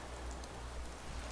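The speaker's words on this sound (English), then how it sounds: "Apparently it's raining through the wall." Rain falls steadily in a castle settlement setting, heard indoors as a soft, even patter with no voices over it.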